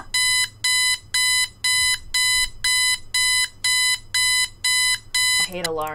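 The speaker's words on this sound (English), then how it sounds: "I hate alarms." An alarm clock rings in twelve loud, evenly spaced electronic beeping bursts, each harmonic and bright, followed by a short warbling tone at the end.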